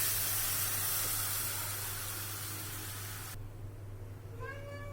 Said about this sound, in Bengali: সামান্য একটু আদা বাটা, একটু জল দিয়ে দেব।